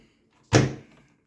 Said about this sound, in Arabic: هنا الباب